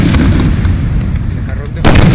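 Palm fireworks bursting at a fair's fireworks display, a sustained roar of loud booming detonations, with a fresh heavy blast near the end.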